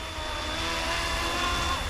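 An RC Airwolf model helicopter hovers steadily, its continuous buzzing rotor and motor whir holding an even level without breaks.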